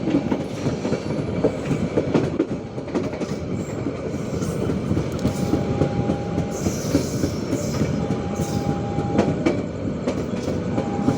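The KA Sangkuriang train rolls out of Bangil station, a loud continuous rumble of wheels with rhythmic clickety-clack over rail joints and occasional thin metallic squeals.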